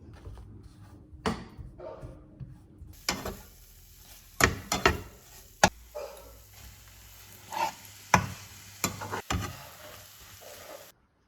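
Instant noodles with cucumber stir-fried in a pan, faint sizzling with occasional sharp clatters and scrapes of the utensil, close, with a dog barking briefly in the background.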